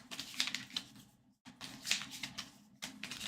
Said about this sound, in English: You take these cards and you give them a lovely shuffle.